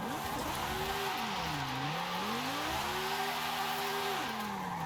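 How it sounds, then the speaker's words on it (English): An all-wheel-drive car drifts in Forza Horizon 5, its engine note rising and falling in long sweeping revs with tire squeal underneath, steady and close throughout. "So this is all-wheel drifting, by the way."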